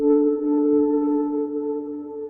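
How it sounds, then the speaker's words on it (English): A dark, warm 10-second reverb called Horizon from the Evergreen Kontakt framework rings out as a steady, smooth tone that holds evenly with no attack or talking. "Horizon is a 10-second reverb"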